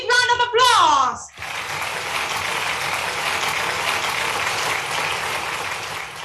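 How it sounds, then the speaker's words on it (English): After a voice speaks briefly, a large audience at a regional gathering breaks into applause, a dense, sustained wash of clapping that holds steady to the end. "Give him a big round of applause."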